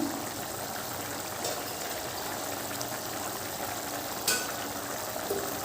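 Chicken biryani being stirred in a cooking pot, a steady soft sizzle and bubbling with faint scraping and a couple of brief clinks, close and fairly quiet.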